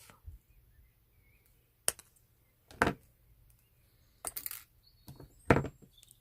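Wire cutters snipping metal wire while making a wire-wrapped pendant, a few sharp isolated clicks spaced across a quiet workbench, close and crisp.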